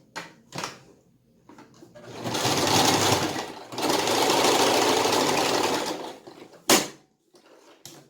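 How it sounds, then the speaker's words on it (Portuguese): A sewing machine stitches fabric for a small Tilda-style stuffed dog, running in two sustained, fairly loud bursts with a brief break between them. Scattered clicks and handling noises come before and after, and no one speaks. "E vamos costurar aqui,"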